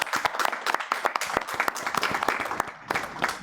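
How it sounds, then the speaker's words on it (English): Audience applause at a diplomacy panel event, a dense patter of many hands clapping fairly close, steady throughout with a slight dip near the end, no talk over it. "I ask the audience to join me in a round of applause."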